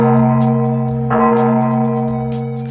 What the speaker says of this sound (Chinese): 钟声突然响起